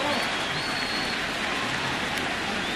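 Mets fans cheer at Yankee Stadium during Game 1 of the 2000 World Series, a broad steady roar of a distant crowd filling the whole moment without a break.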